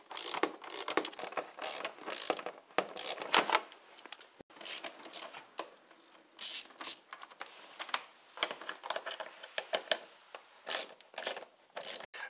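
Screws on the airbox of a Ford Ka being undone with a ratchet, giving quick, close clicking bursts in irregular runs, with short pauses between them.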